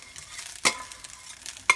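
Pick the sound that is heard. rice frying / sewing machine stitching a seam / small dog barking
rice frying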